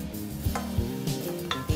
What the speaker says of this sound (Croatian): i na lagane vatri pržimo dok ne omekša